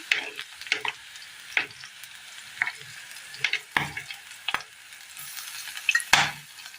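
Chillies frying in a pan in a Kerala curry preparation are stirred and pushed to one side, with scattered scrapes and clinks of the spoon over a soft continuous sizzle.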